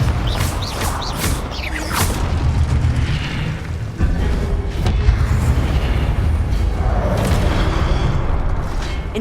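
Confringo fire blast spells exploding in Hogwarts Legacy, a dense and continuous roar of booming blasts and crackling bursts that runs loud and heavy throughout, with sharp hits scattered through it.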